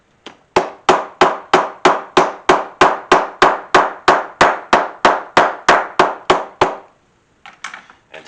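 A plastic hammer taps down alligator hide freshly cemented onto a lanyard cell phone case, about twenty sharp, evenly spaced close knocks in a steady rhythm, then a brief pause and a few lighter taps.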